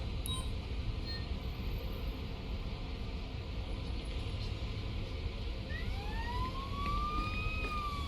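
Ambulance siren in the video game Police Simulator arriving: rising wail tones sweep in over a steady low rumble of traffic or engine noise during the final few seconds, growing louder as it approaches.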